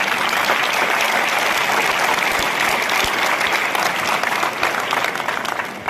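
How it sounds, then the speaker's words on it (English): A large audience applauds the graduates at a Banaras Hindu University convocation ceremony, a loud steady wash of clapping that carries on for several seconds before tapering slightly. "Let's please give a big round of applause for the graduates."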